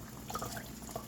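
Gravy liquid pours into a crock pot in a short, quiet splash and trickle, heard alone with no talking.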